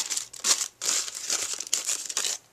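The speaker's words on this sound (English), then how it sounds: "I'm going to bring in my second piece of crumpled wax paper" Crumpled wax paper crinkles and rustles as it is handled and pressed down onto an art journal page, with bursts of crisp crackling that come in quick uneven waves.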